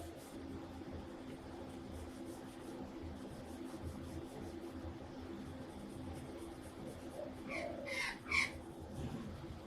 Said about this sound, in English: You're going to hear lots of birds out the window there.